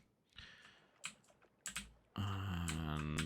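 Computer keyboard and mouse clicks while setting up cargo traffic in a game, a few scattered soft clicks and taps, then a steady tonal hum rising underneath, quiet and close with no talking.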